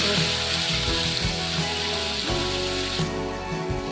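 Grated onion sizzling steadily in hot oil in a pan while being stirred, preparing a prawn malai curry; a loud, constant frying hiss with occasional scraping clatters of the spoon against the pan.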